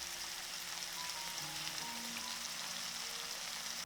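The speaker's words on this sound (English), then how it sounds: "place the fresh beef pieces right into the hot skillet" Fresh beef chunks searing in a hot skillet, a steady close hiss and crackle of sizzling fat throughout, alone with no talk.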